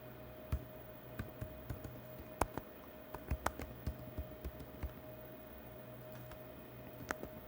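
An email address is typed on a computer keyboard: quiet, irregular key clicks arrive in short bursts and single taps, close but faint, with no talking.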